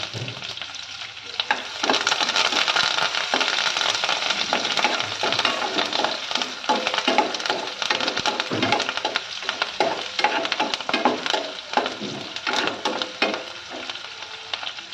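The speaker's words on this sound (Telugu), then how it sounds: "ఒక 2 రెబ్బలు కరివేపాకు కూడా వేసి చక్కగా వేయించుకోవాలి" Chopped onions and curry leaves fry in hot oil in a pan, a steady dense sizzle with occasional stirring scrapes and crackles, close and continuous.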